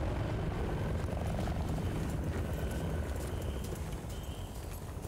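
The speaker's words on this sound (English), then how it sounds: "Russian choppers, man, they shouldn't be here." Russian military helicopters in the war game Battlefield: Bad Company 2 thrum steadily with heavy rotor chop, loud and near, amid a dense rumbling battlefield din.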